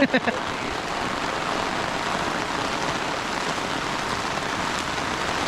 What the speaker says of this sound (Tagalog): inulan na kami dito sa Kalibo, Aklan